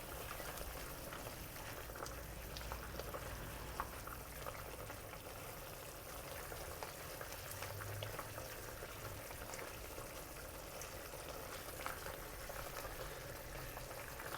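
Braised mushroom sauce simmers quietly as cornstarch solution is dripped in to thicken it, a faint, steady bubbling and soft sizzle without pause.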